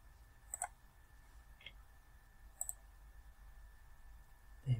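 Computer mouse clicks sound as three sharp, isolated ticks spaced about a second apart, quiet against faint room hiss, with a soft thump at the very end.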